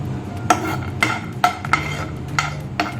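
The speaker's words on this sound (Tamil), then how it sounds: "இப்போ இந்த முந்திரி பருப்பை போட்டு நல்லா பொன்னிறமாக வறுக்கணும்." Cashews fry in hot ghee in a pan while a metal spoon scrapes and clinks against it in sharp, regular strokes over a low, steady sizzle.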